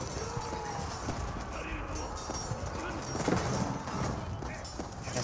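Cavalry horsemen clash in an Age of Empires 4 match, with steady hoof clip-clop and horse sounds layered over continuous battle noise; a commentator talks throughout.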